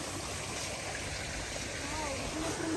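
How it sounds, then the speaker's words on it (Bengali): Steady broadband rush of a waterfall flowing nearby, continuous and fairly loud throughout with no break. "ওয়াও, ঝর্ণাটা দেখ"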